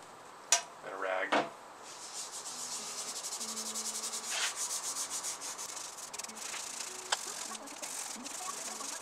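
Scotch pad and brake cleaner scrubbing a VW Type 4 2056cc engine head, a steady close abrasive rubbing that runs throughout, with a few sharper spray-like bursts near the start.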